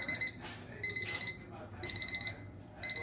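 Kitchen timer alarm ringing in a kitchen while smoked brisket enchiladas bake, a loud, close, repeating electronic beeping in short bursts with brief gaps between them.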